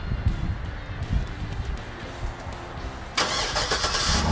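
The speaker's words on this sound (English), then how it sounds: "The Escalade is also equipped with a power remote start." A 2009 Cadillac Escalade ESV fitted with 22-inch chrome factory wheels starts by remote, with a low rumbling background followed by a sudden engine catch near the end that settles into a loud, steady idle.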